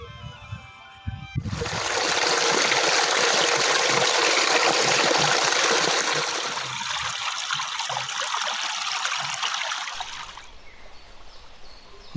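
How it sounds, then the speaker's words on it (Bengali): Water rushes steadily through a drainage channel that irrigates farm fields, a loud, continuous close gush that eases partway through and fades near the end. "ক্ষেতে জল দেওয়ার জন্য যে ড্রেনেজ সিস্টেমটা করা, সেই আওয়াজটা খুব সুন্দর লাগলো"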